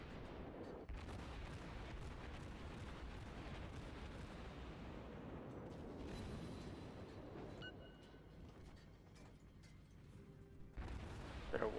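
Naval guns fire in the warship game World of Warships, deep booming blasts rolling into a continuous rumble with crackling impacts, loud and dense, easing off briefly near the end before another heavy burst; a voice speaks faintly underneath.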